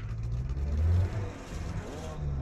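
Jeep Grand Cherokee engine revving off-road by a river crossing, a short swelling rev that rises and falls under background noise, with faint voices nearby.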